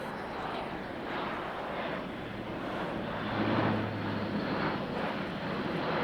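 A four-engine military turboprop, powered by 1100 shaft horsepower Europrop TP400 engines, flies past at an air show with its undercarriage extended, a steady loud propeller and engine roar swelling slightly mid-pass, with commentary over it.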